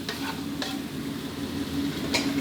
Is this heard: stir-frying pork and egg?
yes